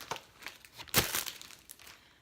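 A plastic Ziploc bag crinkles close by as it is handled, with scattered rustles and one louder crackling burst in the middle before settling to softer handling.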